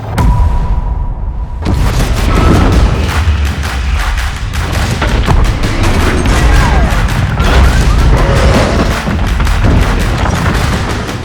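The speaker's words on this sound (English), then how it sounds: "A nuclear explosion." A deep, sustained roaring nuclear explosion blast rumbles on continuously after a brief quiet moment, loud and heavy with crackling debris throughout.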